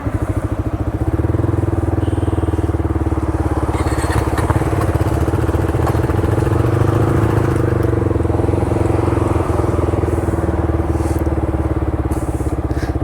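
A KTM RC 390 motorcycle engine idles steadily and close by after a rebuild, a low continuous rumble with a faint crackle running throughout, with no voices.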